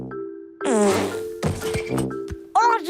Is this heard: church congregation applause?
no